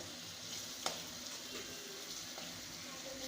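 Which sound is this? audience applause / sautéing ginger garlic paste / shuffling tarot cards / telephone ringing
sautéing ginger garlic paste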